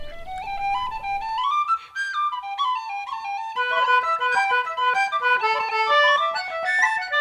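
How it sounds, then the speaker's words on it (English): A tin whistle plays a quick, ornamented melody with bright high notes, later joined by fuller accompaniment. "I'm familiar with tin whistle playing too."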